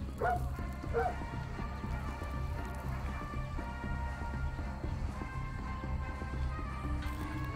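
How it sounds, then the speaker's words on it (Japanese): A dog in the video game Far Cry 6 barks a few times near the start, the yips sitting over a steady low background ambience, fairly faint. "これ犬よね、ただの。"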